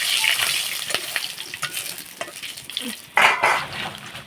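Bay leaf, dried red chilli and whole garam masala frying in a pan for a vegetarian jackfruit curry, with a crackling sizzle, scraping spatula strokes and a sharp metallic clatter near the end, close and loud.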